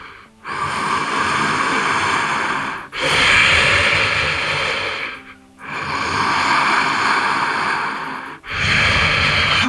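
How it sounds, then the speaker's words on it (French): Slow, deep breaths during a yoga boat pose fill the space, loud and close: long rushing inhales and exhales alternating in an even rhythm, about four in all, with no talk. "Respirez avec moi ici à 5 reprises."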